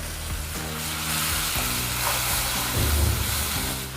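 Spice paste of onion, ginger, garlic and cumin fries in a pan with dense, loud, continuous sizzling and a few low knocks of stirring close by.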